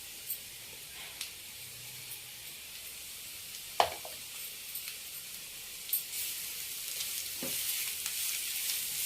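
Grated carrot and fresh coconut fry lightly in a pan, a faint soft sizzle with occasional sharp stirring clicks and scrapes, no speech.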